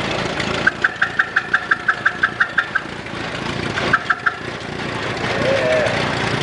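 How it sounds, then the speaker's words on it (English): A 1920 Fighter friction-drive tractor runs at an antique farm fair parade in Oregon, firing in a steady string of sharp, evenly spaced knocks, pausing, then giving a few more beats over outdoor crowd ambience. "We have a 1920 Fighter tractor right here. This is also a friction drive."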